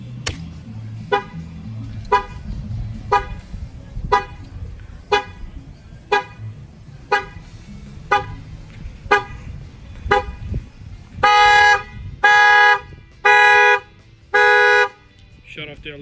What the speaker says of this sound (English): if somebody tries to break the window with a center hole puncher, it will fire off the alarm